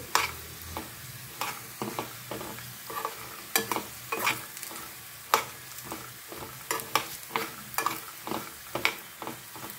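Crispy chickpeas fry in oil, a soft continuous sizzle broken by many sharp clinks and scrapes as they are stirred and lifted from the pan, close and fairly quiet.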